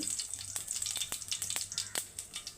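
Mustard seeds sizzling in hot oil in a pan while upma is being made: a steady, close frying hiss broken by sharp crackling pops at irregular intervals.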